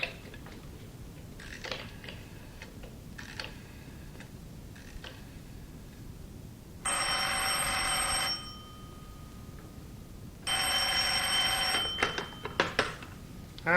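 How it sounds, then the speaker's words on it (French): An old-style telephone bell rings out in two loud bursts, each lasting a couple of seconds with a pause between, on an outgoing call in a French radio drama, with faint ticks and clicks in the quiet. "Tenez, téléphonez à Max Charlet pendant que je cherche le numéro du professeur Cantono."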